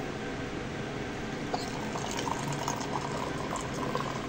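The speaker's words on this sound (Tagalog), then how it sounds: "Lalagyan natin ng mainit na tubig." Hot water poured into a cup holding instant 3-in-1 coffee and noodles, a steady close liquid stream with small splashy bursts throughout, no talking.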